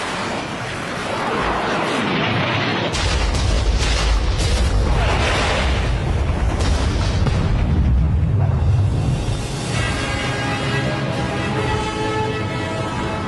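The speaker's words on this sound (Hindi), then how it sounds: "मिसाइल आ रही हैं।" Missile explosions in a cartoon, a loud rumbling roar of blasts and debris that swells and holds for several seconds before tailing off into a softer ringing wash.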